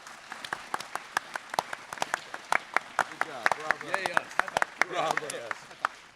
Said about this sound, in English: massive rounds of applause for these guys